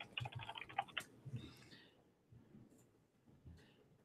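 Keys on a computer keyboard tapped in quick, close clusters, with short pauses between bursts, fairly quiet against a low room hum.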